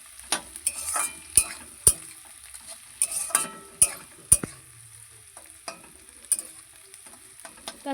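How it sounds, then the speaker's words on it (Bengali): Potatoes frying in a pan with onion and chili, a steady sizzle broken by repeated sharp scrapes and knocks of a spatula stirring against the pan, close and fairly quiet. "পেঁয়াজ লঙ্কা আর হচ্ছে আলু দিয়ে ভেজে নিচ্ছি"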